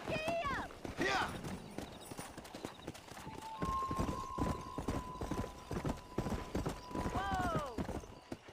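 Horse galloping in the video game Red Dead Redemption, rapid rhythmic hoofbeats running throughout, close and steady, with a voice calling out and urging the horse on over the sound.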